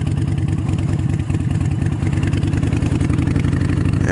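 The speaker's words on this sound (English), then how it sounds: "I'm using some engine braking here." A motorcycle engine braking in a parking lot gives a loud, close, steady pulsing engine drone with a rhythmic low thrum and slight clatter, holding near constant throughout.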